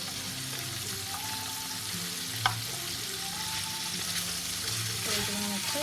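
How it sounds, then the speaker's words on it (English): Salmon fillet frying in a pan for a quick flash cook, a steady low sizzle and crackle running throughout with a few faint clinks of utensils, with no talking. "So we're not searing. We're doing a quick flash cook."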